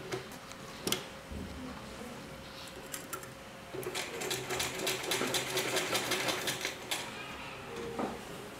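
A sewing machine stitches a dhoti salwar in a steady close run of rapid mechanical clatter, with a few sharp clicks before and after the main burst.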